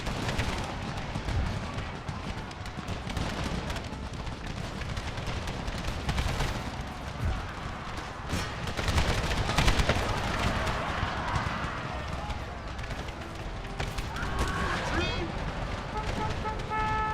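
Battle in Empire: Total War with the Brothers vs. Brothers mod, cannon and rifle fire crackling and booming amid hoofbeats and running, with someone talking over the game sounds.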